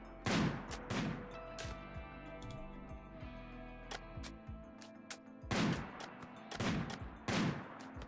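Rapid gunfire from the video game RimWorld, with several loud bursts of shots at the start and again near the end, separated by quieter ticking and sporadic single shots.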